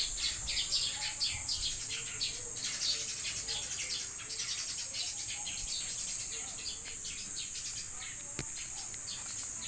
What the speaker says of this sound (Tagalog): Nagaanahan yung mga ibon.